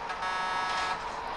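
Air horns added to a truck in a truck driving video game blare in one steady, loud, continuous honk.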